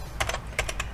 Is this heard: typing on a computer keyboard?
yes